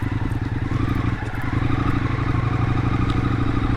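An Indian FTR x RSD Super Hooligan motorcycle runs steadily up close, its engine a dense, continuous pulsing drone with faint rattles and clatter from the mount throughout.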